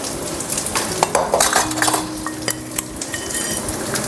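Chana dal, urad dal and peanuts dry-roast in a pan, a close, fairly loud mix of rattling, metal scraping and light sizzle as a spoon stirs them continuously, with nobody speaking.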